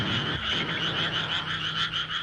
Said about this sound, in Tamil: அடடா, தவளைங்க, தவளைங்க தவளைங்க.